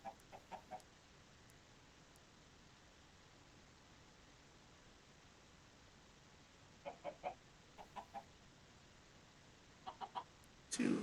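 A chicken in the video game Minecraft gives short, soft clucks in a few brief clusters over a faint steady hiss, with a louder burst at the very end.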